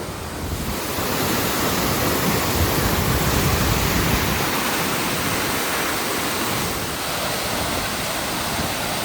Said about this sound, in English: This is quite an impressive waterfall.